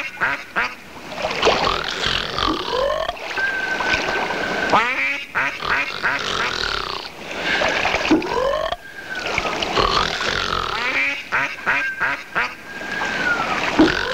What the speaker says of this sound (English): duck snoring.